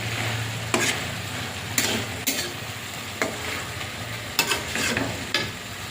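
Small mixed fish cooked with bitter gourd, potato and aubergine in a Bengali curry, drying down in a pan: a steady low sizzle with repeated sharp scrapes and clinks of stirring, close and alone without talk.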